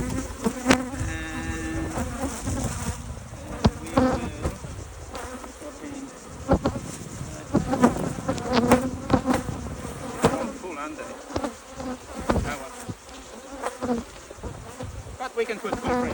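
Angry honeybees swarm around an open hive during requeening with brood frames, a dense close buzzing that persists the whole time, with individual bees whining past and occasional handling knocks.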